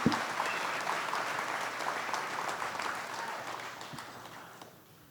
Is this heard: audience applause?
yes